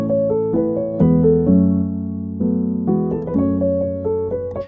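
Rich sampled instrument chords from the free Spitfire LABS music plugin, sustained harmonic tones shifting through several chord changes, played steadily and fairly loud with no talking.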